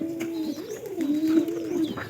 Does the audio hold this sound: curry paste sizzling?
no